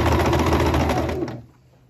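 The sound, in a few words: sewing machine stitching a dress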